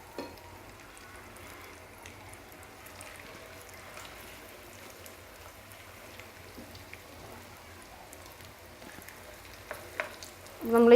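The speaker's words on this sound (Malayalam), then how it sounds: "നമുക്കതും കൂടെ വറുത്തെടുക്കാം." Fish pieces coated in masala fry in hot oil for a crispy chilli fish dish, giving a low, steady sizzle and crackle that rises sharply into louder spitting near the end.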